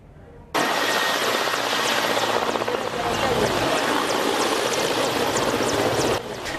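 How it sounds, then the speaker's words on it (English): A steady, loud aircraft engine roar starts abruptly and holds for about six seconds before cutting off, as the plane carrying a casket lands on a primary school playground. "this plane carrying the casket of late Labour Minister, retired Colonel Charles Okello Engola, landed at Anyeke Primary School playground."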